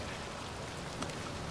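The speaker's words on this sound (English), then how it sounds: "So it's raining for a long time." Steady rain falls in the game Uncharted 4: A Thief's End, a dense, even hiss of drops that never lets up, with a faint patter against nearby surfaces.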